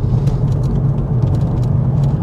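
Mercedes-Benz E220 CDI AMG Line convertible diesel engine revving in sports mode, a steady low rumbling drone heard from inside the car, fairly loud and without talk.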